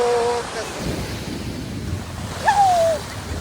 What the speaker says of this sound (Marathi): लय मोठ्या लाट आहेत.